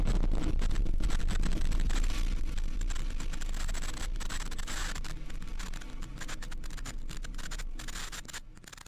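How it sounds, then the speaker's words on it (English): SpaceX Falcon 9 rocket lifting off through fog from a launch site, carrying Iridium NEXT satellites: a loud, continuous, broadband crackling roar that stays dense and powerful throughout, easing only slightly over time. "Liftoff of the Falcon 9. Vehicle is pushing down range."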